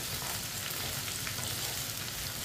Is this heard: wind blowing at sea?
no